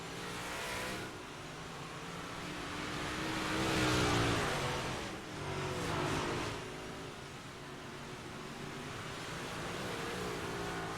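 Race cars circle the track at Cedar Lake, engines droning steadily with a swell as a pack roars past, loud and close, then settling back to a constant rumble.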